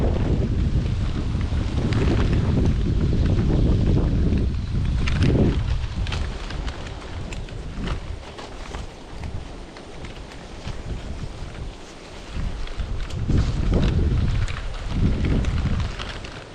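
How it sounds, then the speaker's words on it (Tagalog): Strong wind buffets the microphone in loud, rumbling gusts that swell and ease, nearly drowning out everything else. "Lakas po pati ng hangin, no?"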